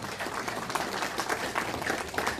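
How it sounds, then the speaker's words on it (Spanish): Audience applause for a charango speaker at a talk on Ayacucho charango music, a dense, steady wash of many hands clapping at moderate level throughout, with no speech over it. "yo pido nuevamente fuertes palmas para Pedrito Arriola."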